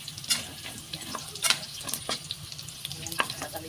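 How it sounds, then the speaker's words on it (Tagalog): Onion and garlic sautéing in a pan for a pork curry, with a steady sizzle broken by scraping stirs and occasional utensil clinks close by. "bigisa na natin sibuyas bawang dyan"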